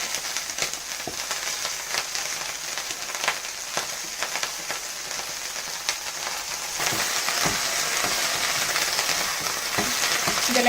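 Onion, drumstick leaves and banana flower sautéing in a pan for a stir-fry, a dense continuous crackling sizzle with scattered clicks of stirring, growing slightly louder toward the end.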